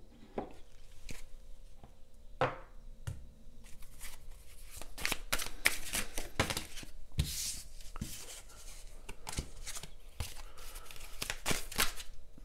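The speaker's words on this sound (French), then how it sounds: "On va faire le chemin avec l'oracle bleu avant de prendre une carte ici." Oracle cards being handled and shuffled in a quiet room, a run of crisp riffling and flicking bursts with small taps between them, close and fairly soft, no voices.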